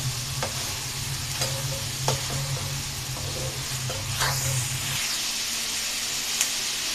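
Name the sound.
stirring and frying chicken with capsicum in oil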